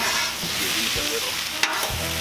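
Seasoned food being stirred on a Cuisinart 360 griddle, a continuous close sizzle with scraping spatula strokes and a couple of brief clacks, no voices.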